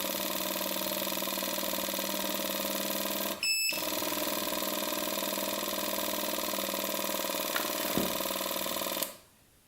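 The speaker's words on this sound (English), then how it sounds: "Sounds like the pump's going." Electric pump whining on a Kawasaki KLT 250 three-wheeler, a steady tonal hum with a brief dropout, a couple of faint clicks, then a sudden cutoff near the end.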